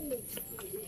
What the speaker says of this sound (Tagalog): Ayun yung mga kalapati natin.